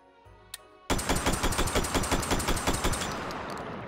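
Rapid semi-automatic gunfire in the VR shooter Hot Dogs, Horseshoes & Hand Grenades, a steady rhythm of loud close shots with a single shot and mechanical click first, and no talk.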